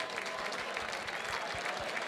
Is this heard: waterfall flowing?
no